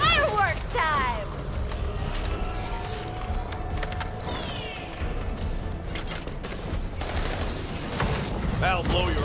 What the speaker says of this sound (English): It's fireworks time!